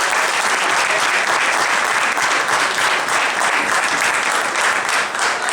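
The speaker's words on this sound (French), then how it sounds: "vous pouvez encore l'applaudir" Loud, dense applause from the audience at a Waaruf general assembly, a continuous roar of many hands clapping that holds evenly for several seconds without any voices on top.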